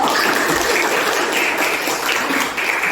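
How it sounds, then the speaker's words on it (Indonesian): Students in an Indonesian mathematics classroom break into sustained applause, a loud, even wash of many hands clapping together for about three seconds with no voices over it. "Beri aplaus"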